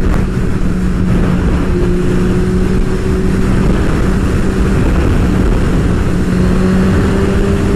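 A super sport motorcycle accelerates with the throttle cranked open, a loud, sustained engine drone that climbs steadily in pitch, heard close up and alone, overlaid with wind noise.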